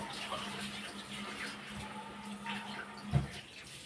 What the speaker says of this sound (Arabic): يا الله عاد نعبر الماء بالكاس